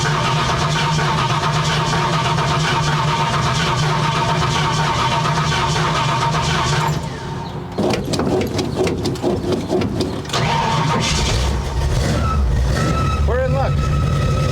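A 1970 Ford Falcon engine with a mechanical fuel pump catches on the last vapors of old gas and runs steadily, its loud close idle holding throughout, with a rougher stumble midway before it settles again.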